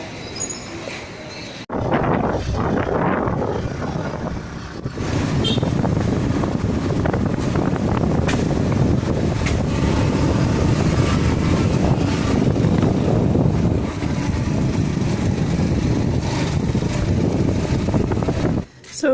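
A motorcycle taxi ride through a Rio de Janeiro favela, loud wind rush and engine drone filling the microphone for most of the ride after a brief quieter start, with a voice heard early on.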